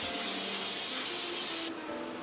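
A sustained hiss of aerosol cooking spray onto a sheet tray lasts nearly two seconds, then cuts off and leaves a softer residual hiss.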